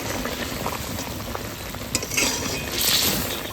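Food frying in a pan is stirred gently, giving a continuous close sizzle with soft scrapes and a few light clinks.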